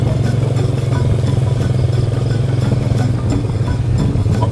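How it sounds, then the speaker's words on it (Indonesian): Steady motorcycle engine drone from a ride on a motorbike along a village road, continuous mid-pitched rumble with faint clattering, close and constant throughout. "Kita naik motor nih."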